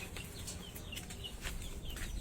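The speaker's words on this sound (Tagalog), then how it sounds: "mga manok" Chickens on a backyard farm cluck softly and intermittently against a steady low rumble of ambient noise, with a few faint scattered calls standing out through the 2-second stretch.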